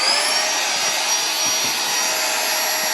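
GIGA Pump 3.0 electric air pump running during a vacuum bag test, a steady, loud high-pitched whirring whine with no break, heard alone.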